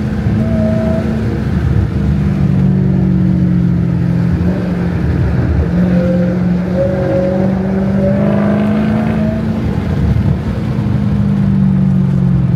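A 717 hp SRT Hellcat with a supercharged 6.2 V8 Hemi drives the Nürburgring Nordschleife, its loud, close engine droning steadily from inside the car with a constant deep rumble and rising and falling pitch as it accelerates and eases off.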